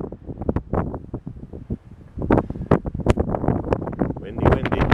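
Strong wind gusts buffet the microphone atop a mountain fire tower, loud, irregular blasts rising and falling, with people talking over the roar.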